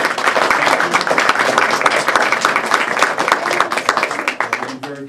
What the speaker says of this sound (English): I'll give them a big round of applause anyway.